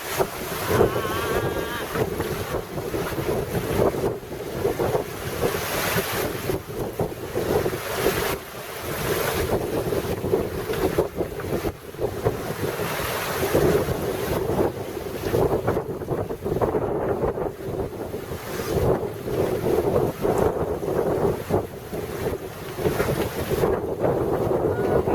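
A sailboat off Marseille rolls through big swells, with heavy wind buffeting the microphone and waves washing and surging around the hull in a continuous, loud roar.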